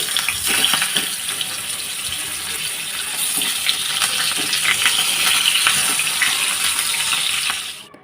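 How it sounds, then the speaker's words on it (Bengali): Hilsa fish frying in a home kitchen pan, a loud, steady hissing sizzle that holds for several seconds before cutting off abruptly at the end, with no voices. "তো তরকারিটা নামিয়ে এখন আমি মাছটা ভাজি করে নিচ্ছি"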